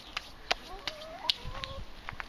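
Chickens cluck and squawk in short, sharp bursts, several calls scattered across a quiet farmyard background, fairly close.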